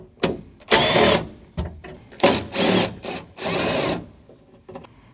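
Power tool removing two 10mm bolts from the front left window regulator of a 2012-2021 Nissan NV2500, close loud whirring in several short bursts separated by pauses, no speech.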